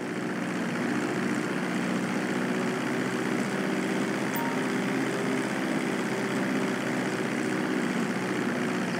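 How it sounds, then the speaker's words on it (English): A propeller airplane taxiing on a runway in the video game GTA V, with a steady, loud engine drone that holds constant throughout, with no talk over it. "Now let's get the plane off the runway."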